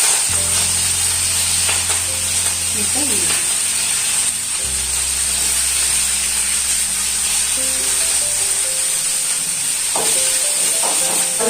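Onions sizzle steadily in a hot pan, a continuous bright hiss with occasional crackles and stirring scrapes, close and loud throughout.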